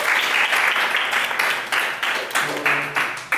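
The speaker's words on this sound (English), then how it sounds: "Give him a round of applause" Audience applause greets the next presenter at a class assignment session, a dense, steady wash of many hands clapping close by that runs the whole stretch with small surges, and a faint voice hums underneath near the end.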